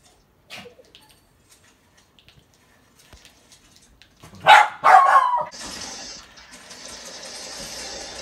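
Two sharp, loud dog barks ring out close by after a quiet stretch of faint clicks, followed by a steady hiss of background noise.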